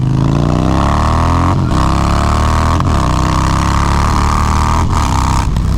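A loud Harley-Davidson motorcycle engine roars steadily and close, its pitch rising and falling in repeated revs, with brief dips between surges and no voices.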